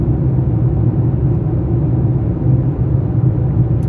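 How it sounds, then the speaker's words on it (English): Steady low rumble of tires on pavement heard from inside a moving car, a constant droning hum with no voices. "you hear that road noise."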